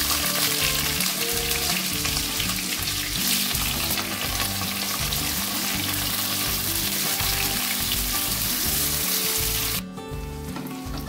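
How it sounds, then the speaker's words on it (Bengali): Pointed gourd (potol) slices fry in hot oil in a pan, making a loud, dense, continuous sizzle that holds steady and eases slightly at the very end. "এবার পটলগুলো ভেজে নেব।"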